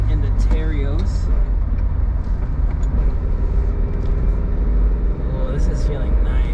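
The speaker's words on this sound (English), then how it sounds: "Let me downshift to 4th. Hit these turns real quick in the Terios." A 1997 Daihatsu Terios drives through a series of turns, its engine rumbling loud and steady from inside the cabin with pitch shifts as it downshifts into fourth, while someone talks over it.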